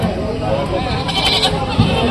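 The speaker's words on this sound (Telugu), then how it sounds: "ఎవరే బాబు నీయేనా మేక పిల్లలు?" Goat kids bleat at a busy rural sheep and goat market, a few short nearby cries rising over a crowd murmur while people talk close by.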